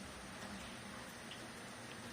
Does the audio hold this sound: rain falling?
yes